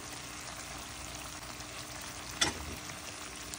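Chicken fry in semi gravy sizzles steadily in the pan as it is stirred with frozen coriander, with a continuous crackle and one brief louder clatter of the spoon partway through.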